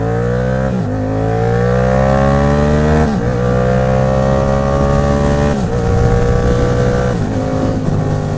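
A Yamaha MT-07 motorcycle accelerates hard, its engine note climbing steadily and dropping sharply at each of three or four quick gear shifts. The engine sounds loud and close, with no voices over it.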